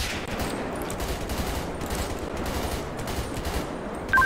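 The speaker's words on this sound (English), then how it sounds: "Shots fired." Rapid gunfire in a police roleplay video game, a dense, continuous volley of shots crackling for several seconds with no talk over it.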